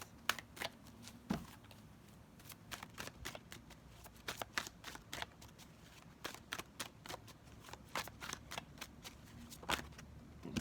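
Oracle cards being shuffled by hand, a dense run of crisp riffling and slapping bursts repeating steadily and close up, with no talking.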